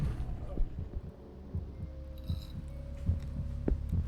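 A heartbeat throbs in the horror video game Song of Horror, low and muffled under a droning hum, with soft irregular thumps over a few seconds.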